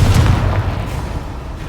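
Confringo blasting spell from a Hogwarts wizarding video game going off as a loud, close boom with a heavy low rumble, a few rapid bursts early on, then a sustained roar that slowly fades.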